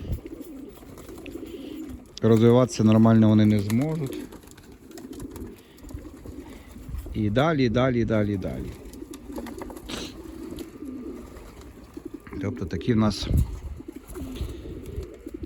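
Pigeons coo in a breeding loft during nesting season, with young squabs present. Soft, repeated coos are partly drowned by someone talking at length close by.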